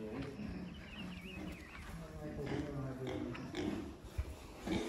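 A Pietrain-Duroc breeding boar grunts and snorts while being handled on a pig farm, its rough calls coming in short bursts among people talking nearby.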